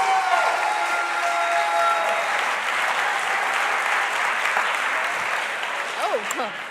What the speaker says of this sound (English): Please, warm applause for Candice Francis.